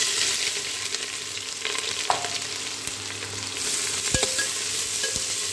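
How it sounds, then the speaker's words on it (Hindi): Whole garam masala, bay leaves and chopped onion fry in hot oil for mutton stew, a loud constant sizzle with occasional stirring knocks and clinks. "तेल गर्म हो गया। अब इसमें देखिए गरम मसाला खड़ा डाल रहे हैं। इसमें 2 तेजपत्ता डालें और इसमें ये कटा हुआ प्याज,"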